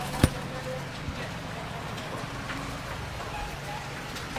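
Steady rain falling outdoors at a street market, a constant fine patter on surfaces with one sharp knock near the start and no talking.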